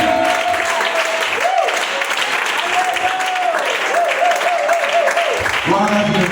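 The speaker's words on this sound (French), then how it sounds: "Est-ce qu'on peut lui donner une acclamation?" A congregation at a French-language church service breaks into sustained applause and cheering, loud and continuous, while a voice rings out over the clapping.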